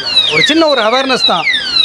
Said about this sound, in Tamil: இதை ஒரு தடவை தக் பண்ணால் ஒரு தடவை வார்னிங் சவுண்ட் வரும்